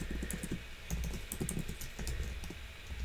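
Rapid, steady clicking of keys on a computer keyboard that is not working quite right, typed during a Java programming tutorial; the close key taps continue throughout with no talking.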